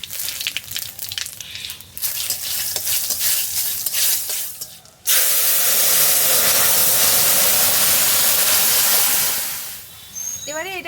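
Cumin seeds and two or three bay leaves drop into hot oil in a village kitchen, and a loud, steady sizzle suddenly takes over, then fades. Light stirring and a voice come before it.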